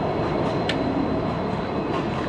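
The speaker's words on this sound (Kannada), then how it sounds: "ಯಾವುದೋ ಚಿಕ್ಕದು ಗೂಡ್ಸ್ ಗಾಡಿ" A small goods train rumbles past at close range near the Kenchamma temple in Bhadravathi, a steady broadband roar with one brief metallic squeal partway through.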